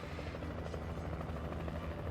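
A helicopter in Alan Wake Remastered, a steady, dense rotor chop and engine roar filling the scene continuously at moderate loudness, with no talk.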